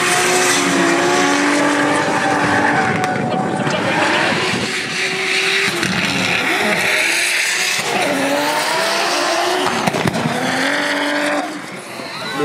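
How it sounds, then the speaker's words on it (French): Race cars roaring around the Val de Vienne circuit during a 2022 final, loud engines rising and falling as cars pass, with revving, gear changes and tire squeals throughout. "Le pilote ukrainien face à la voiture rouge, le pilote français Gemfuel qui accuse déjà beaucoup de retard sur cette première partie du tracé."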